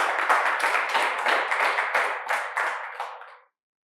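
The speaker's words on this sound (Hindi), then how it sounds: "पहले तो आप सब लोगों के लिए जोरदार तालियां कि लास्ट तक आप सब लोग रुके हो।" Audience at a talent show applauding steadily, a dense, bright patter of many hands clapping close by with slight rhythmic pulses, continuing for a few seconds before stopping abruptly.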